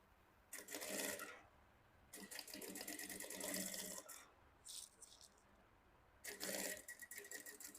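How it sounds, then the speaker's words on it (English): A sewing machine stitches Ankara fabric for box-pleated shorts in quiet, rattling bursts with brief pauses between runs, close by and fairly soft, with no talking. "I'm just going to go ahead and finish sewing this down"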